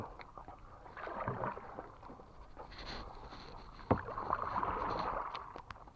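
Oars or paddles working a small rowboat on open water, with soft splashes and gurgles over a steady wash of wind, one sharp knock near the middle, and no talking.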